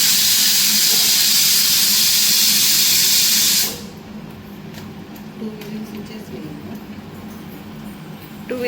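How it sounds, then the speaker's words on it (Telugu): A kitchen pressure cooker releases steam in a loud, steady broadband hiss for about three and a half seconds, then cuts off abruptly, leaving quiet room noise with faint clatter. "టూ విజిల్స్ వచ్చేసినాయి"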